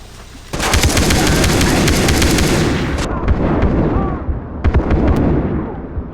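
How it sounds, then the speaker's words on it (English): Far Cry 3 firefight in which rapid machine-gun bursts rattle loudly for a few seconds, then break off into scattered shots and sharp explosive pops, with combat noise filling the whole stretch. "Could really do with whoever that is getting off that machine gun."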